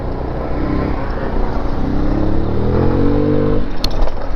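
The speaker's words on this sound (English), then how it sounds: "It's ridiculous that there's so much traffic everywhere." Road traffic passes close by, a loud engine note rising as a vehicle accelerates past, with clattering road noise underneath.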